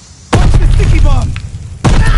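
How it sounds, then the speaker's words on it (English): A sticky bomb explodes in a multiplayer shooter game: a sudden loud boom with a rumbling tail, a voice speaking briefly over it, then a second blast close by. "Watch the sticky bomb."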